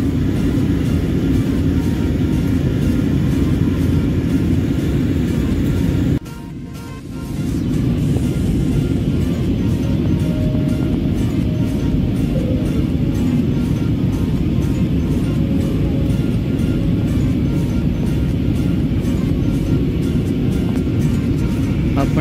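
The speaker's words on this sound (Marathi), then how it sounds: "आपण आता थोड्याच वेळात कोचीनला लँडिंग करू." Steady, loud low cabin rumble of a passenger airliner descending toward Kochi, a continuous engine drone broken by a brief dip before resuming unchanged.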